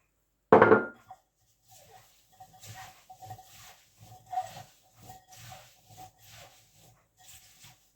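Apple slices being tossed with sugar in a bowl: a single knock, then soft, rhythmic rubbing and scraping strokes, fairly quiet and close.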